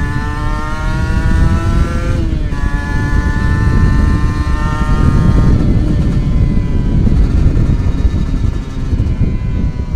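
A 2012 Kawasaki Ninja SS motorcycle at full throttle on a top speed test ride, its engine whining loud and close through rising gear pitches with a brief shift, plus heavy wind roar.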